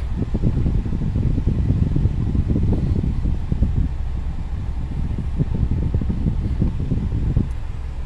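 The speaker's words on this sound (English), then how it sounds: "air conditioning works" The air-conditioning fan in a 2006 Saturn Vue blows steadily inside the cabin, a loud, continuous breathy rush with a slightly fluttering low rumble throughout.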